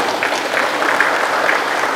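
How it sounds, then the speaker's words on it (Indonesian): A meeting audience in the Keerom regency gives steady, dense applause that is close and loud throughout. "Tepuk tangan dulu."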